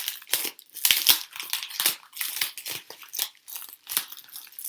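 Close, crinkly crunching and ripping of parcel packaging being torn open by hand in quick irregular bursts, continuous for several seconds with no voices.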